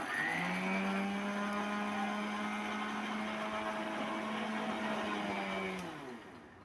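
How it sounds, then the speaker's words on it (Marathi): A kitchen mixer grinder blends green chili, garlic and cumin into a paste, its steady whirring motor loud and close for about six seconds before winding down at the end. "हिरवी मिरची, लसण, जिरे ची पेस्ट मिक्सरवर काढून घेतली"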